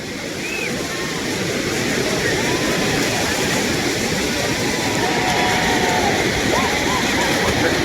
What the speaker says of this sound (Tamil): தண்ணி பார்த்தீங்களா மக்களே எவ்வளோ ஃபோர்ஸாக போயிட்டுருக்குன்னு